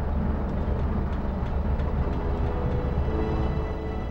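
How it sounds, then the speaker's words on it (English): A land train's engine runs in the video game In Cold Blood, a dense, steady mechanical rumble with faint rhythmic clanks, loud and continuous without any talking. "Yeah, that's quite the engine."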